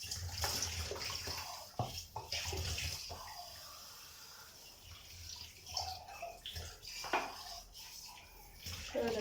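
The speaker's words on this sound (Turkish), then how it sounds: "Şuradan bulaşıklarımı yıkayayım." Running tap water splashes while dishes clink and clatter in a sink, with irregular bursts of scrubbing and rinsing; no talk is heard.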